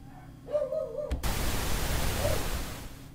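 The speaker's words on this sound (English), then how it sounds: "Let's just lower it down so y'all can hear it better." Pink noise test signal in Ableton Live at a lower level, a broad steady hiss that swells in after a brief faint tone and holds evenly before easing off slightly at the end.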